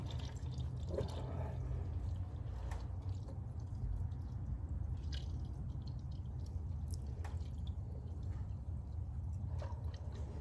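Engine oil drains from a 2018 Ford Edge Sport into a 12-quart container, a continuous soft liquid trickle with scattered drips over a steady low background hum, alone and without talk.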